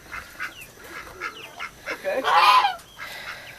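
Geese and other poultry honk repeatedly outdoors on a small farm, a loud burst of overlapping calls building near the end, with a brief spoken word.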